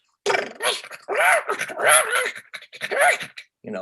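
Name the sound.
voice actor imitating a dog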